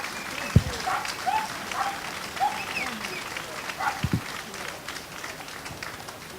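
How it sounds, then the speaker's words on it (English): Outdoor audience applause at a Flag Day celebration, a light scattered patter of clapping heard at a distance, with a couple of sharp thumps and some voices mixed in. "Let's give them a round of applause."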